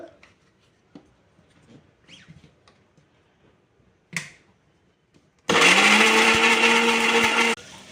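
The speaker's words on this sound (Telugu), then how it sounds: "ఇప్పుడైతే మా డాడీ మిక్సీ పట్టుకుంటుండు." After a few quiet clicks and handling knocks, a mixer grinder blending tomatoes whirs loudly for about two seconds, a harsh high-pitched motor roar that stops abruptly.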